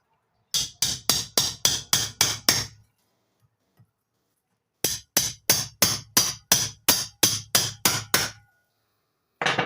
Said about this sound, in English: I'm done with the hammer and the big knife.